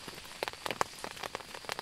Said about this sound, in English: Oh, it's the rain on here.